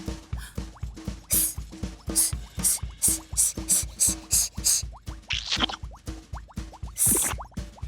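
Playful cartoon splashing fills the scene: a rapid, even rhythm of bouncy water plops and droplets, near and lively, with occasional brighter splashes and no talk.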